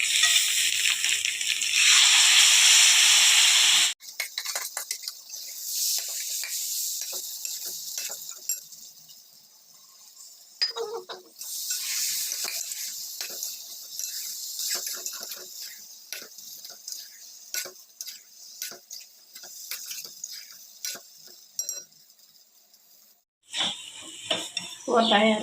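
Curry simmering in a pan after tamarind juice, salt and turmeric are added, giving a steady soft sizzle with repeated close stirring scrapes and light clinks of a spoon against the pan. A few short breaks interrupt it, and no one speaks.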